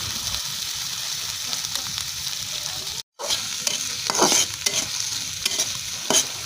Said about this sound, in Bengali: প্রথমে পেঁয়াজটাকে বাদামি বর্ণ করে নেবেন